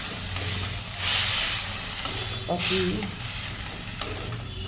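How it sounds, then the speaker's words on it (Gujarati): Pav bhaji being stirred and mixed in a hot pan, with a steady sizzle and hiss and scraping of the spoon through the thick mash, brief louder bursts of steam, and a voice speaking briefly. "ભાજી બરોબર મિક્સ કરી દઈશું આપણે."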